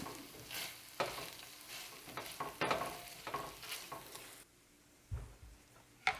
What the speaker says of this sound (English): every time we add something in, we're just going to give it a big stir to incorporate it